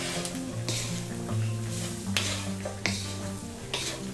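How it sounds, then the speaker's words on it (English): Freshly picked porcini mushrooms fry in a pan, sizzling steadily up close with a few scraping stirs, and no voices. "And now let's add our beautiful mushrooms."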